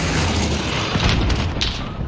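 A frag grenade goes off in a video game, a deep booming blast with a rumbling tail that stays loud throughout, followed by a few sharper bursts near the end.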